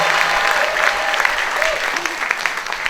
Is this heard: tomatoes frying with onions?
no